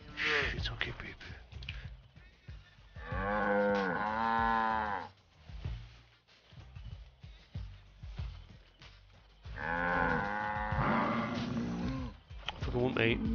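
Cows mooing loudly in the video game Far Cry 5, two long drawn-out bellows several seconds apart, close and prominent, with shorter animal grunts between them.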